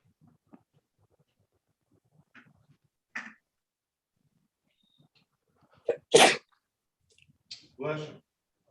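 A sharp single sneeze in a quiet judge's meeting room, preceded by a few faint clicks and small vocal sounds, with brief speech just afterward.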